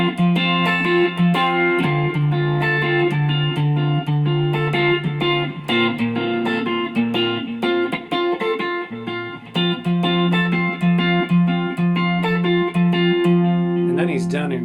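An electric guitar plays the boogie-style outro rhythm of a song, with steady chord strums and shifting bass notes over a continuous groove, loud and close for the whole passage.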